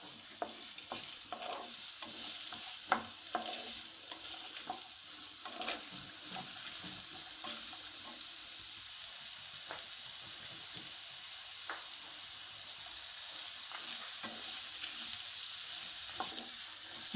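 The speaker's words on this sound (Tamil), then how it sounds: "இதில் இப்போ முள்ளங்கியெல்லாம் நல்லா வதங்கட்டும்." Radish pieces sautéing in a pan for a Tamil-style mullangi chutney, giving a steady soft sizzle with scattered scraping stir clicks throughout, close and moderately quiet with no talking.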